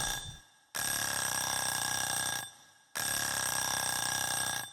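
Two long bursts of harsh metallic bell ringing, loud and continuous, separated by a short gap; a shrill mechanical alarm with no voices.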